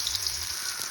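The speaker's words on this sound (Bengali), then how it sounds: "আমি এখানে বড়াগুলো ভাজতে দিয়ে দিয়েছি" Small boras, lentil fritters, crackle in hot oil with a constant close hiss and light popping, ending on a brief knock.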